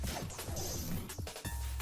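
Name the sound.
smashing blow sound effect from video game Fate/Stay Night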